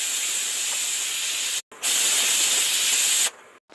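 A pressure cooker vents steam in a loud, steady hiss that cuts out briefly, resumes, then stops near the end.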